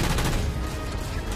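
Dense, continuous gunfire from the Halo 4 video game, a loud sustained burst of rapid shots filling the whole moment with no talk over it.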